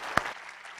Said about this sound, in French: est-ce qu'on peut l'applaudir chaleureusement pendant qu'il s'en vient